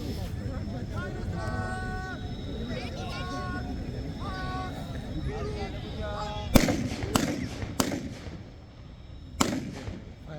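Republic Day fireworks in Berhampore go off in several sharp bangs and crackles in the latter half, over continuous chatter and crowd noise with voices talking throughout.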